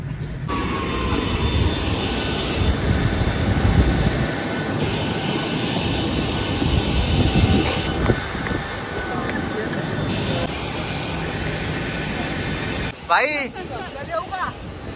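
Inside an airliner cabin on departure for Austria, a loud, steady engine and air roar fills the space while people talk over it, followed by a brief tonal chime near the end.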